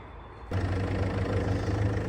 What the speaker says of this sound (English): Right, engine's on in the Range Rover.